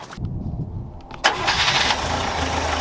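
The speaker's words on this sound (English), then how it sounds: "We'll start it and run it." A Scout 80 with a freshly fixed fuel problem cranks over briefly, then catches and fires up, settling into a steady close-up idle that runs on to the end with no talking.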